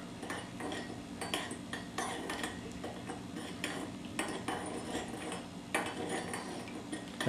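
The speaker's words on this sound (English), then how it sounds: "gently stir" A utensil stirs salt into water in a container, giving repeated light clinks and scrapes against the sides in an irregular rhythm, close up and fairly quiet, with no talking.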